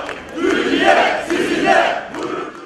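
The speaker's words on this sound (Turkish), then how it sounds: "Galatasaraylı ve Fenerbahçeli yüzlerce taraftar ortak tezahüratlar eşliğinde bekledi" Hundreds of Galatasaray and Fenerbahçe football fans chant together in rhythmic, swelling phrases, a loud massed crowd rising and falling in repeated waves.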